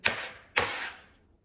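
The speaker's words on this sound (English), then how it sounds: "I'm just actually cutting them into just, pieces. I'm more like chopping them." Oranges being chopped into rough pieces with a knife for homemade jam, two quiet, crisp cuts about half a second apart, each with a short scraping tail, and no voice.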